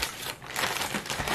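Plastic wrap crinkles as it is pressed tightly around steamed chodang corn for freezing, a close, continuous crackling and rustling with a few louder scrunches.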